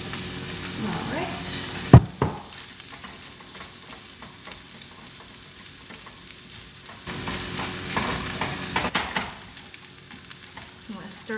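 Golden fried rice is stirred in a hot pan in a home kitchen, with a soft continuous sizzle and scraping of the utensil, plus one sharp clack early on and bursts of heavier stirring later.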